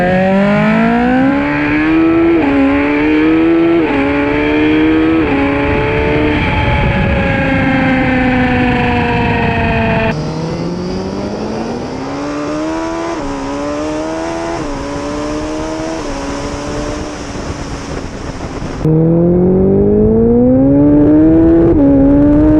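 A Suzuki Hayabusa motorcycle fitted with nitrous revs hard and accelerates through several gears, each pull a loud rising whine that drops sharply at the shifts.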